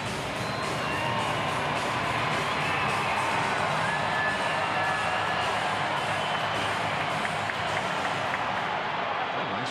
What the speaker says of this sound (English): Nice Friday night crowd, and they're going to do what they can to help McKenzie.